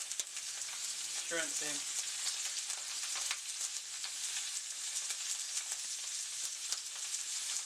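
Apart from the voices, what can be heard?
blackened salmon sizzling skin side down in pan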